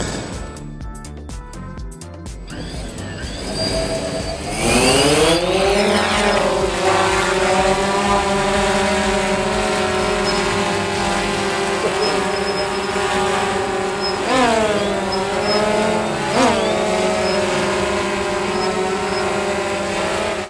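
A camera quadcopter drone hovers close by, its propellers giving a steady high-pitched whine whose pitch shifts and swoops several times as it corrects its position, following a short burst of clicking at the start.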